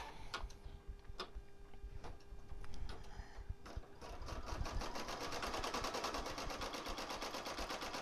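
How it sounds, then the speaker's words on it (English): An embroidery machine stitches an appliqué letter placement line, a few sharp clicks and a steady tone giving way to fast, loud, rhythmic needle chatter that runs on alone. "So it is just stitching the placement for the L."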